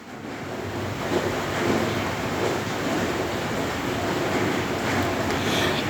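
Fish heads fry in hot oil with a loud, dense, continuous hiss that holds steady from start to finish.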